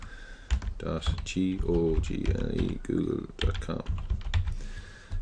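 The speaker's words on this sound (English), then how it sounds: "we want to type in www.google.com" A computer keyboard clatters in rapid, close keystrokes as a web address is entered in a browser settings page, with a voice speaking over the typing throughout.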